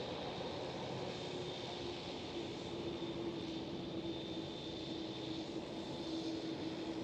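A TUI Boeing 787 departs from Amsterdam Schiphol, a distant, faint, steady engine rumble with a thin sustained whine running unbroken throughout.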